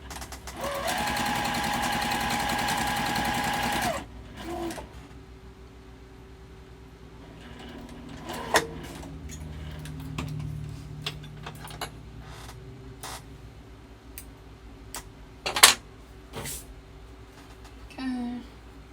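A sewing machine top stitches a fabric wallet made from fat quarters, running in one loud continuous burst for about four seconds, then falling quiet to faint handling noises, scattered clicks and taps of fabric being adjusted.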